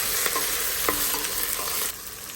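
Mixed peppers, including bananas, serranos, jalapenos and poblanos, frying with caramelizing onions in a pan, giving a steady close sizzle with light stirring scrapes that drops quieter near the end.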